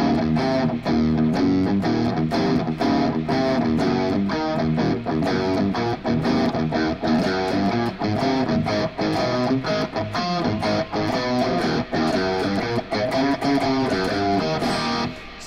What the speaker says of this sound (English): a lot of old boogie-woogie stuff you learn sounds like this.